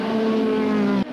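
1985 Formula One cars, a Williams Honda and a JPS Lotus, racing at the European Grand Prix: a steady, loud engine drone at high revs holds for about a second, then cuts off abruptly.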